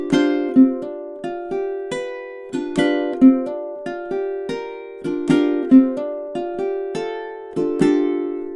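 A spooky fingerstyle ukulele phrase of four bars rings out alone, plucked notes in a steady repeating melodic pattern with sustained overlapping tones and regular accented attacks.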